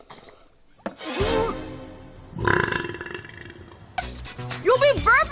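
An animated female cartoon character lets out a long, loud burp, followed by more belching and vocal sounds from cartoon voices, each burst close and voiced with shifting pitch.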